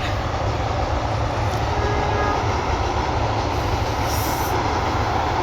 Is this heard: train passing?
yes